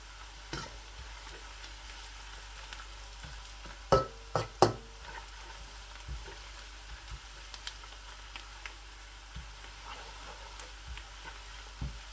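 Garlic frying in a pan while keema mutter is being made, a soft steady sizzle with a few sharp clinks and stirring knocks around the middle, fairly quiet with no voices.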